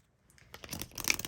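An oracle card deck is shuffled by hand, starting quietly and building into a brisk, crisp riffle of cards over about a second.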